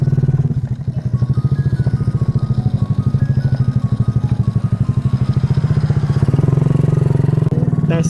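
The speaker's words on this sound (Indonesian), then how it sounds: "Yuk kita langsung test ride motor si Monkey Bobber" Custom Korean-style Monkey Bobber motorcycle on a test ride, its small engine giving a steady, close pulsing putter that holds throughout with slight rises in revs toward the end.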